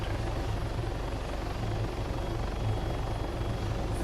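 A steady, loud rotor thump and engine drone from an MD-500 Little Bird helicopter in flight in the video game Arma 3, continuous and unbroken with no voices.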